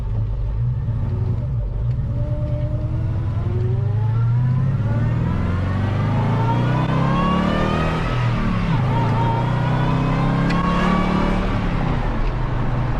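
Hydrogen-powered muscle truck with a supercharged engine revving, a loud continuous rumble with rising and falling supercharger whine sweeping up and down over about thirteen seconds.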